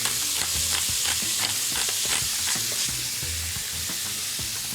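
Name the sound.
squid sizzling as it cooks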